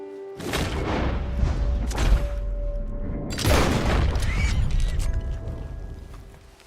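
Rifle shot fired at an animal in Red Dead Redemption 2: two sharp, loud booming blasts about three seconds apart, each rolling into a long echoing rumble, with faint mechanical clicks and soft game music in between, and no speech.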